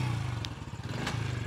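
A motorcycle engine hums steadily at mid-range, close by and continuous, with light clatter over the top, as if the bike is pulling away.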